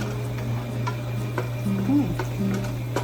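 Thickly cut garlic cloves fry in a hot pan for a Bangladeshi dried keechki fish curry with eggplant and potato, giving a low, steady sizzle with faint stirring ticks and small scrapes, close and fairly quiet.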